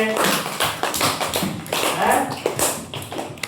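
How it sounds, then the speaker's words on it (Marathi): A group claps for quiz participants, a brief burst of scattered hand claps mixed with voices talking over them. "चला सगळ्याला एक टाळ्या वाजवा यांच्यासाठी"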